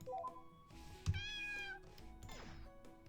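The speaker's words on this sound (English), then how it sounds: "I swear there is the cat sound here." A cat meow sound effect from The Wizard Cat video game rises and falls once and is followed by a sweeping tone, all over soft game music.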